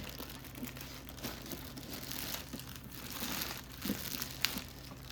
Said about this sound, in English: remove the plastic bag that it's in